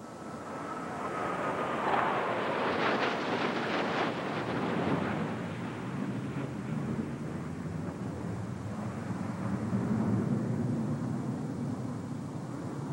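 A MiG-29 Fulcrum fighter jet flies past, a broad roaring rush that swells over the first few seconds and then holds steady as a distant, sustained drone with no talk.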